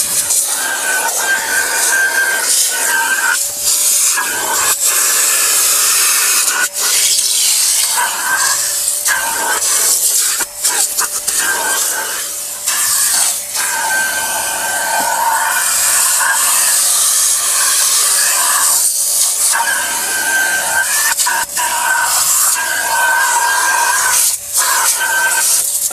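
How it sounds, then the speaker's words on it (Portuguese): A vacuum cleaner runs continuously inside a BMW car interior, a loud, close, steady hissing roar with small shifts as the nozzle moves, and no speech. "Aí eu tô aspirando o carro aqui."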